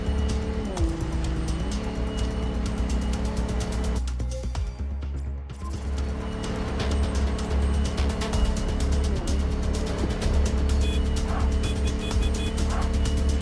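Car engine humming steadily while driving in the video game MindsEye, with shifting revs and a brief dip partway through, continuous and fairly loud, no voices.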